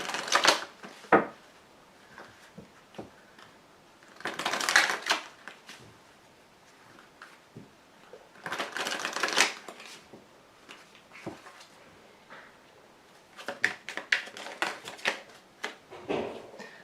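Tarot cards are shuffled and laid out in bursts of quick riffling, each followed by crisp single card slaps and taps that stay close and moderately loud.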